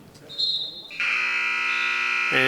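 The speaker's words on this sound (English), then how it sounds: "there's the buzzer for the end of the first bout" Buzzer ending the first bout of a varsity high school wrestling match, a harsh sustained electronic tone that swells up loud and holds, with a commentator's voice faintly around it in a gym.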